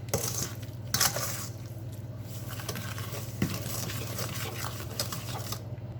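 Sweet potato pie filling made from canned sweet potatoes is mixed in a bowl, giving soft wet scraping and patter with a few sharper knocks, fairly quiet and steady with a constant low hum beneath.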